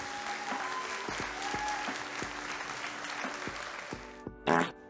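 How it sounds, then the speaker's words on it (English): Brief, thin clapping during a home puppy-fostering scene, steady for about four seconds with a few sharp knocks, ending in a short loud burst after a quiet gap. "Round of applause for Adam"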